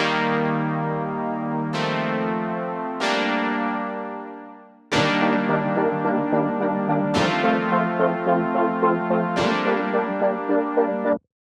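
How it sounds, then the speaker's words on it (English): Synth brass preset called Analog Warmth, meant as a layer in a pop track, plays held chords, two long swells and then a run of rhythmic stabs, up close with no voice. "We layered up one little brass sound under it that's kind of tucked in there."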